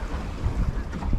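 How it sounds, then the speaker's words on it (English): Wind noise while sailing a small Welsford SCAMP dinghy in lumpy seas, a rough low buffeting rumble across the microphone with water sounds beneath, continuous for the brief moment. "Thank goodness the wind picked up."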